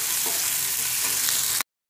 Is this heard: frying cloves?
yes